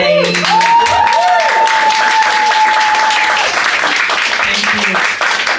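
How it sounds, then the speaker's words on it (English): Loud audience applause fills a comedy club, dense clapping from a crowd lasting several seconds, with a brief voice at the start. "Whenever the audience claps for me"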